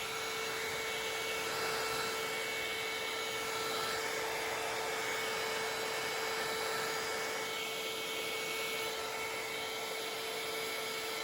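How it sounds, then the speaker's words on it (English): Hair dryer with a funnel on the end blowing wet acrylic paint in a pour, a steady close whooshing drone holding without a break for about eleven seconds, with no voices. "I'm going to use this blower with this on"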